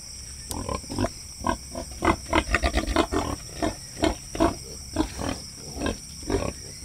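Piglets on a Filipino farm, a litter of fourteen nursing from a sow, squeal and grunt in a rapid run of short, loud, close bursts that repeat throughout.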